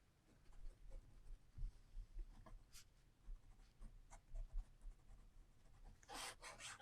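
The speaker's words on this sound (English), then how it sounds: "I need to write that down" A pen scratching steadily across paper at a desk, with close, soft rubbing strokes and brief pauses, then a louder burst of hissy scribbling near the end.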